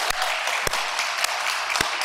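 A congregation in a church service claps in a dense, steady round for two honored members. The applause is close and fairly loud, with a few sharper individual claps standing out and no talk over it.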